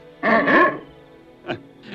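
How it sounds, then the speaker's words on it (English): A dog barks twice in a medieval adventure setting, a loud doubled bark up close, then a shorter, fainter yelp after a pause, with a last bark cut off at the end. "And a dog, too, it seems."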